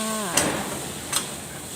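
Steady sizzling of pork stir-frying in a hot pan, with two brief metallic scrapes of a utensil against the pan.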